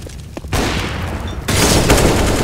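Gunfire in Counter-Strike: Global Offensive, loud close bursts of rapid shots in two sustained volleys separated by a brief lull, with the second burst heavier and fuller.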